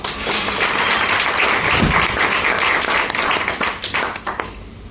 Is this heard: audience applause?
yes